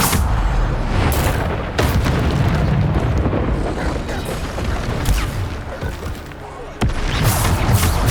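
Repeated Bombarda spell explosions in the Hogwarts Legacy video game, loud booming bursts that recur at close intervals over dense, continuous game noise.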